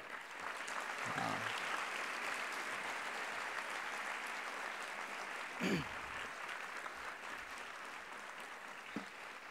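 A crowd at a Thursday youth assembly keeps up continuous applause, an even roar of many clapping hands with a couple of louder individual claps and a brief faint voice underneath.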